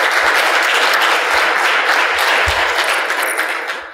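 Loud, close applause fills an award ceremony hall, a thick continuous clatter of many hands with a few low thumps, holding steady before easing slightly at the end.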